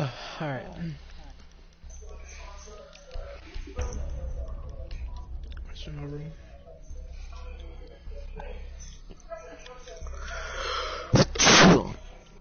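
A single sharp sneeze bursts out near the end during a Rainbow Six Siege ranked match, loud and close, following players chatting over game sounds.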